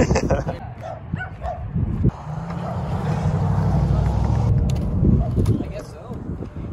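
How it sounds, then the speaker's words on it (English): Dogs bark in short, sharp bursts near a street in Tucson, Arizona, mixed with a passing vehicle's low rumble and a steady engine drone. "You guys have the scariest barks I've seen."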